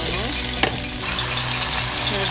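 Chicken fries with browned onions in a pan for chicken sukka, giving a loud, continuous sizzle with one sharp scrape of stirring near the start.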